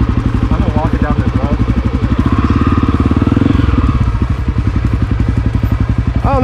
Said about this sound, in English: Engine brake it. Keep it in first gear. Let your engine keep you decelled.